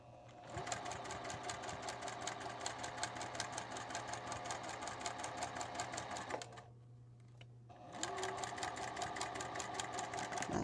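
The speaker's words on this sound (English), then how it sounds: "The sewing machine will pull the fabric through without you pulling or anything on it." Sewing machine stitching quilt fabric with a rapid, steady mechanical chatter, pausing briefly near the end before resuming at the same pace, close and clear.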